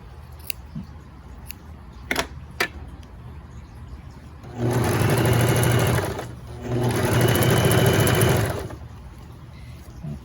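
A sewing machine stitches binding onto a garment armhole in two steady, close bursts of whirring, about four seconds and two seconds long, separated by a brief pause, with light clicks and snips beforehand.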